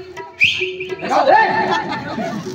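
A voice imitates a shrill pressure cooker whistle, rising high, then sliding into a wavering hoot, with chatter around it.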